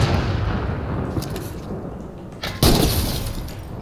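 A constant rumbling din in a Fortnite match is broken by a sharp, loud crack near the end, a single in-game gunshot followed by a lingering burst of noise.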